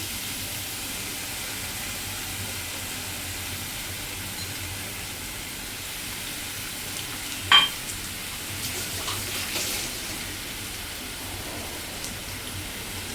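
Grated fresh coconut and jaggery being stirred in a pan for ukadiche modak filling, a faint, steady scraping and soft sizzle with one brief clatter partway through and no voices.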